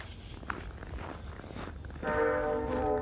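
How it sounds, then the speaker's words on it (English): A train horn sounds from a distance on a snowy evening in Point Saint Charles, Montreal, entering partway through as a sustained, steady blast over faint street ambience. "Nice train horn."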